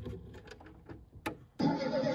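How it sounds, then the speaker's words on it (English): An American Girl doll's toy car plays a sound effect after some light clicks and fumbling with the ignition key. A short electronic engine-start surge is followed by a steady running-engine drone. "let's go ahead and put the key in the ignition"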